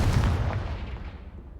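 Confringo blasting spell from the Hogwarts Legacy video game going off as a short, deep booming explosion that fades quickly over about a second.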